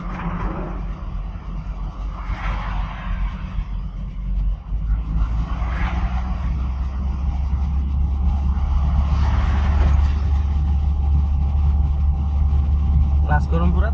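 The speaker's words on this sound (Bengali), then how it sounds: "দেন এক্সেলারেটর ডাইন পা চাপ দিন" Steady, loud engine drone of a learner's car during a driving lesson in Sylhet, the pitch rising gradually as the accelerator is pressed, with an instructor talking over the engine noise throughout.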